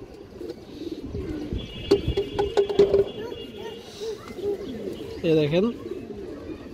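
A black-tailed male pigeon gives soft coos under someone speaking, followed by a louder, close rolling coo near the end.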